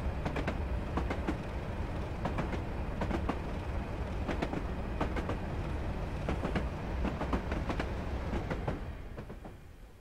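A video game train in Train Simulator 2015 on the West Highland Line South rumbles past with rhythmic clickety-clack of wheels over rail joints, steady and moderately loud, fading slightly at the end.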